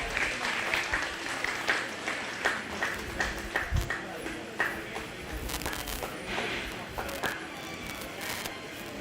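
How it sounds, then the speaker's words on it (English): Scattered clapping from a small audience at a county fair 4-H/FFA goat show, uneven and moderately distant, with a voice talking over the applause inside the show ring. "Let's give her a nice round of applause."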